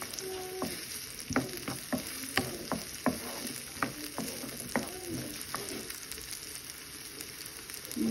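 Onion frying in a pan for scrambled eggs: a steady close sizzle with repeated stirring scrapes and taps at an irregular rhythm, heard alone without talk.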